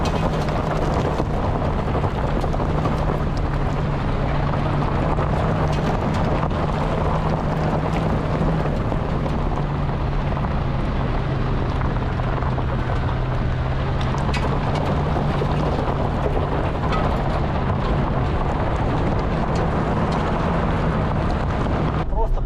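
A Lada car climbs a steep, rocky mountain road in North Ossetia in first gear at about 5000 rpm, with a steady engine drone and rough road rumble running throughout and people talking over it.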